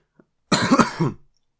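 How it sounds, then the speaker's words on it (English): A single harsh cough, a short burst of two or three rough pulses, close and loud in an otherwise quiet room. "I got an insane cough that I cannot stop"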